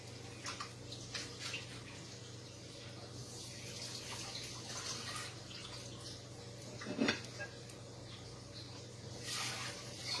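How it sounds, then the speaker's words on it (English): Running tap water rinses salmon in a kitchen sink while a healthy salad is prepared, a faint, steady stream with light splashing. "So I'm rinsing out my salmon to add my salmon now."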